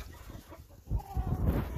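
Backyard chickens in a garden clucking and murmuring, a low, busy flock chatter that grows louder and denser in the second half, with no voices.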